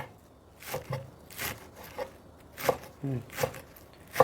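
A knife chopping shallots on a board for a Thai beef dish, about a dozen crisp, irregular cuts close by, with light scraping between strokes and quiet background sound.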